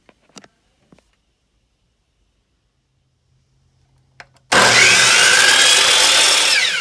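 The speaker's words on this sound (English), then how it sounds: "I marked them to length, carefully lining them up, and then I cut each side on the compound miter saw." After a few light taps and a quiet pause, a compound miter saw abruptly whines up and cuts through wicker seat frames for a canoe, loud and sustained to the end.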